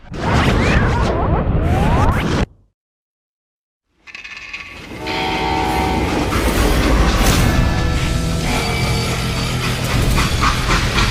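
A freight train in the Western video game Call of Juarez Gunslinger rumbles loud and steady, cutting to silence for a moment, then returning as a dense mechanical roar with rattling wagons and whooshing air.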